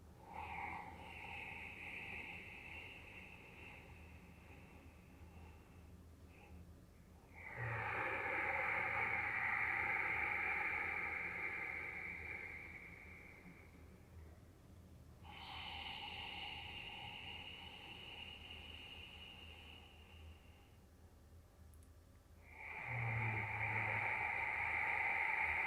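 Slow breathing during a breathwork session: long, soft, airy breaths alternate at an unhurried pace, each extended exhale a steady hiss that swells and fades, close and quiet with no talking.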